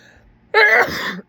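A single short, sharp sneeze bursts out after a moment of near silence, close and fairly loud.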